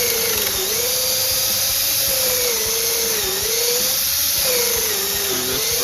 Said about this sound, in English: drill high speed, low pressure.